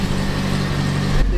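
A 1961 Triumph TR3A idling while it warms up, a steady low engine hum close by with a slight tonal shift near the end.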